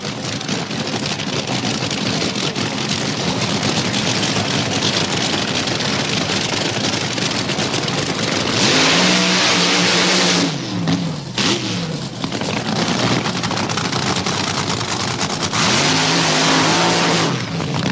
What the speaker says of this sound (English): Both crews go through the familiar but necessary burnout routine.